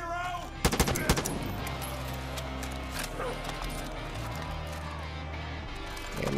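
Gunfire in Far Cry 5, a quick burst of several sharp shots near the start followed by a low rumbling engine-like drone and background game sounds, with a voice speaking over the action.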